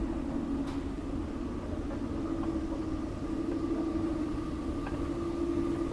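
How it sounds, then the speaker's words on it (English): A Scarborough RT Line 3 train rolls past, a steady low rumble with a sustained hum and faint rail squeals, moderately near and continuous without speech. "watch some trains go by, shall we?"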